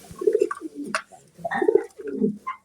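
Pigeons coo at a farm, several soft throaty calls close by in short bursts with brief pauses between, alone without talk.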